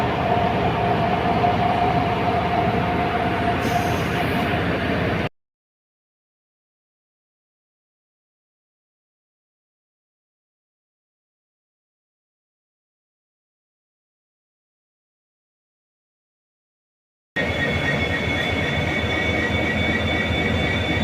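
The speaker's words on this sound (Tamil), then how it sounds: "நான் ஃபஸ்ட் டைம் ஆனால் இந்த ரூட்டில் எலக்ட்ரிக் லோக்கோ ரன் புல்லில் ட்ராவல் பண்ண போகிறேன்." Steady rumble and hiss of an electric locomotive-hauled passenger train running on the Sengottai–Tirunelveli route through the Western Ghats, heard from onboard before and after a long stretch of silence.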